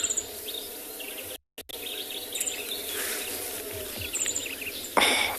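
A pink-throated twinspot in thicket habitat in Maputaland gives very high-pitched, thin trilling calls in short bursts over a steady background buzz of insects and crickets, with a brief dropout partway through.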